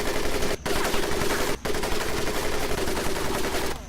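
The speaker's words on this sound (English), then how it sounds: "Are they actually shooting real guns at us?" Sustained rapid machine-gun fire over a boot camp training course in the World War II video game Medal of Honor Pacific Assault, dense and continuous with two brief breaks.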